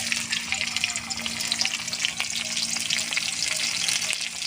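Green chillies sizzle steadily in hot mustard oil in a wok for making taro leaf greens, with a dense crackling hiss and scattered pops, close and continuous, no talk.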